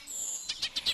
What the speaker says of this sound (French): un petit moineau un peu fragile